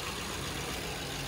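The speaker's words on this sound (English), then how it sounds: "let it idle here for a second and check it out" A 1990 Range Rover Classic engine idles in a steady, even drone, running rough after a fuel pump replacement, heard close and continuous with no other sounds.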